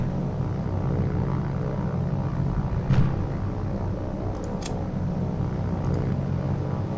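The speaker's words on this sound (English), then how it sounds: "We're looking up and aircraft everywhere." Steady droning aircraft engines fill a naval battle in the War on the Sea video game, a continuous rumble with B-17 bombers overhead and no voices.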